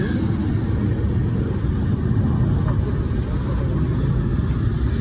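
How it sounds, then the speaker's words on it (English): A steady low rumble of an airplane passing overhead in France, broad and continuous, with a faint outdoor background. "Look at this plane fly by."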